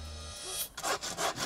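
A hand saw cuts through wood in a few strong back-and-forth strokes, loud and close, with no voices over it.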